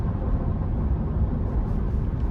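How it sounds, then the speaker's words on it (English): Inside the cab of a 2016 Ford F-150 XLT 3.5 EcoBoost pickup on the move, a steady low road rumble blends with soft wind rush, constant and unbroken. "road noise is not really that noticeable with the wind noise here"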